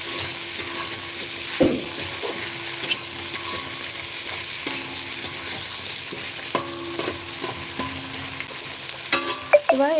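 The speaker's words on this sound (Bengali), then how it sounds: "আলুগুলোকে একেবারেই এর সাথে দিয়ে দিলাম ওদিকে মশলাও ঠিক মতো কষাই হতে থাক" Potatoes frying with spices in a pan give a continuous close sizzle, broken by scraping stirs and a few sharp utensil knocks, with no voices.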